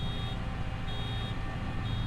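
A steady electronic baler-full warning beep from Farming Simulator 25 repeats at regular intervals over a constant low engine drone, with no talking.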